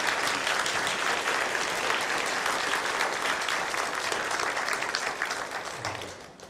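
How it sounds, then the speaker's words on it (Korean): A large church congregation applauds steadily, dense clapping filling the room before slowly tapering off at the end. "네, 큰 박수 드리겠습니다."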